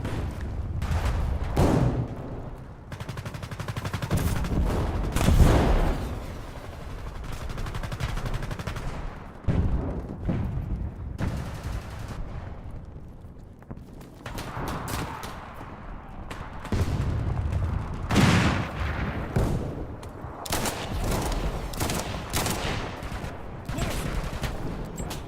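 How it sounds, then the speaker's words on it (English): Shotgun blasts and grenade explosions from a military infantry video game ring out in dense, repeated bursts and booms across the whole stretch, loud and close, with no voices. "Trying the good old shotgun. So many grenades, man."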